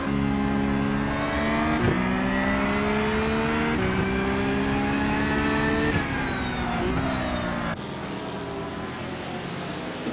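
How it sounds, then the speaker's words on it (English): Porsche GT3 race car engine in a sim racing championship at Okayama International, a loud, harmonically rich howl rising through gears with brief shift dips, sustained close and alone before dropping in level near the end. "I love the sound of that Porsche engine"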